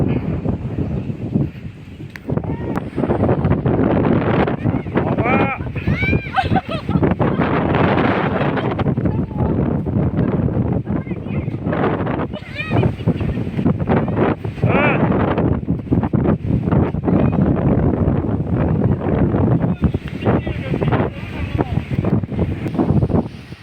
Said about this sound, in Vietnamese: gió cực kỳ luôn